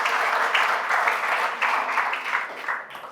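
Congregation applause during a church wedding ceremony after the couple's vows, a steady wash of clapping lasting a few seconds and tapering off at the end.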